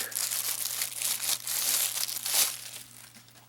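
Thin plastic wrapping crinkles and crackles continuously up close as it is peeled off a CIMA fixed-blade knife, with rustling bursts rising and fading.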